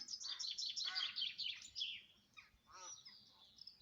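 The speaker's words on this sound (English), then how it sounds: "I'll just let you hear the noise of the birds." Birds call and chirp in a quick, bright chatter behind a Catholic church, fairly faint and distant outdoors, with a short pause before a few more calls.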